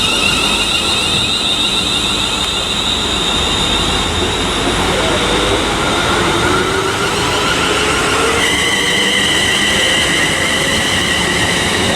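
London Northwestern Railway electric train departing Watford Junction on the West Coast Main Line, loud continuous rolling rumble with whining traction motors and a high pitch that shifts as the train pulls away, filling the whole span.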